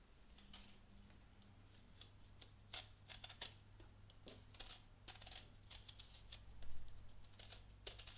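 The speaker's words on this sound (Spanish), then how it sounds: "Si no tenéis un pelador en casa, cogemos un cuchillo que sea medianamente afilado y comenzaremos a pelar las patatas," Potatoes being peeled by hand with a moderately sharp kitchen knife for a Spanish potato tortilla, giving quiet, irregular scraping and clicking strokes over a low steady hum, with no talk.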